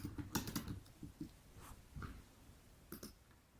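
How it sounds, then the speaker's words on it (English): Typing on a computer keyboard, quiet clicks in short irregular clusters with small pauses between keystrokes, close to the microphone with no talking. "I'm going to highlight the text, click link, and I'm going to type in my own website's homepage"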